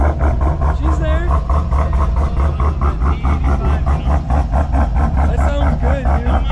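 A twin-turbo C10 pickup truck idles close by with a loud, pulsing low rumble. People talk over the engine the whole time.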